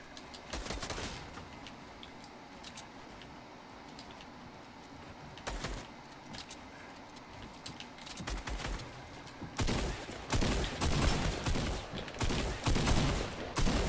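Gunfire in the Fortnite Chapter 2 battle royale game, a series of sharp shots scattered through the clip that grow into a dense, louder burst of rapid firing toward the end.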